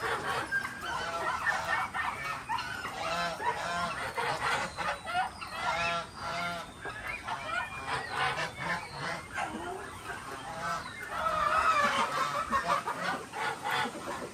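Chickens cluck and squawk nearby in a continuous overlapping chorus of short calls, loud and lively throughout, with a louder flurry near the end.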